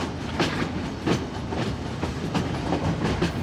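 A train rolls along the rails on its approach to Pattipola station in Sri Lanka, the island's highest railway station, with steady clickety-clack beats of the wheels over rail joints repeating every half second or so under a continuous rumble.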